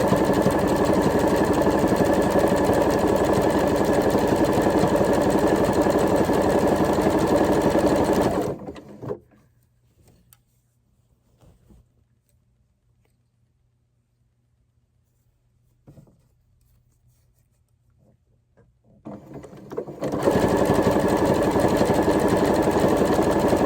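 A sewing machine runs steadily for about eight seconds while stitching a tee shirt neckline, stops for a long near-silent pause with faint handling clicks, then starts up again at the same constant whirring pace.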